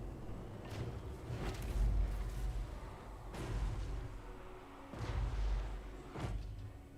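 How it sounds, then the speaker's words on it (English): Cannon artillery fire booms in Total War: Warhammer III, a series of heavy, deep thuds rolling at irregular intervals over a steady battlefield rumble, with no voices. "Cannons fire upon the defenders."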